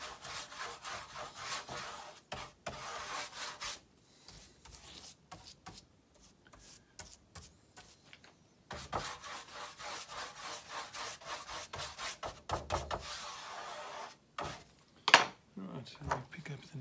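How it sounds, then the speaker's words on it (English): Cloth or a rag rubs and scrubs over wet resin on a fiberglass stabilizer layup, giving bursts of rough, close swishing strokes separated by short pauses, with a sharp tap near the end. "just sop up some of this excess resin that's here"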